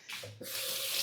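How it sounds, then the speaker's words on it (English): A tap turned on to wash dirt off hands after potting plants, with a short gush followed by a steady, close rush of running water. "I'm gonna wash my hands"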